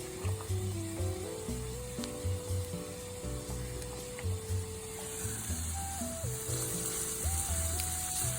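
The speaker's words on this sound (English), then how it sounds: "Keeping those onions and garlic nicely stirred and combined and cooking well on the stove" Onions and garlic sizzle and fry in a pan on the stove, a steady crackling hiss with occasional stirring scrapes, while soft music plays in the background.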